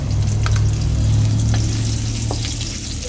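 Ginger and garlic frying in a pot for chicken tinola crackle loudly and steadily over a low rumbling hum from the stove, close by and without talk.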